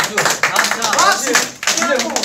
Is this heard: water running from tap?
no